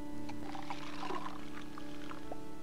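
A gallon of water being poured in The Island of Dr. Brain computer game, a short gurgling, splashing pour over a steady hum, with no talk.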